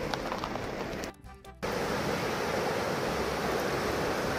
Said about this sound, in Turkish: Bolca akan bir dere.